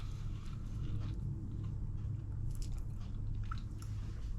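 Chewing on a plain air-fried potato wedge, not parboiled, with soft biting and mashing sounds close to the mic over a steady low background hum, no talking.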